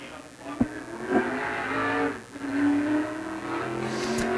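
Modified race car accelerating during qualifying at Monadnock Speedway, its engine roaring and revving at a distance as it comes over the rise, with a commentator's voice over the track noise.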